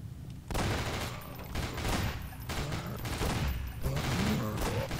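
Dense, rapid gunfire from the video game Nightmare House 2, loud overlapping bursts of shots with short gaps, filling the whole moment.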